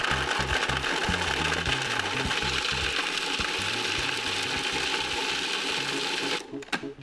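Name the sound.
food processor grating Parmesan cheese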